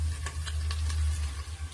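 Fish frying in a hot pan for lunch gives a soft, steady sizzle with faint crackles over a low background hum, close and fairly quiet, with no voices.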